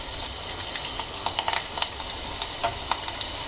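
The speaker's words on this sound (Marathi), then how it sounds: "आता या मिरच्या थोड्याशा परतून घ्यायच्या आहेत आपल्याला।" Chopped chili peppers fry in hot oil with cumin and asafoetida, giving a soft, continuous sizzle broken by light stirring clicks. No voices are heard.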